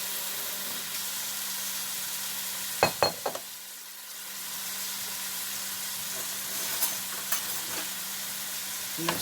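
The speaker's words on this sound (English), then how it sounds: "Get all those vegetables stirred up." Oxtail and vegetables being stirred in a pot over a steady sizzle, with a few sharp clanks of the spoon against the pot near the middle and lighter taps later; no one talks.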